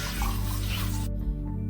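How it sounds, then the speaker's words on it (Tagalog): Senna alata (acapulco) leaves are rinsed under clean running water, a close, steady splashing rush that cuts off abruptly partway through, leaving a quieter trickle. "hugasan sang maayo gamit ang tinlo nga tubig para mahukas ang mga higko kag yabok"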